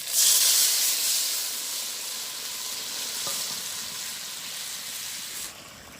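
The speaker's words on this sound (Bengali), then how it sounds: "তো এবারে হালকা একটু জল দিয়ে দিচ্ছি।" Water poured into a hot pan holding fish and chilies in a village kitchen sets off a loud, steady sizzle and hiss that swells at once and then eases slightly before cutting off near the end.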